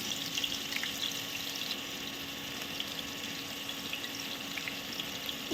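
Whole cinnamon pieces, cloves, cardamom, bay leaves and onion paste frying in hot oil make a steady, close hiss and crackle with fine sizzling texture throughout, no voices.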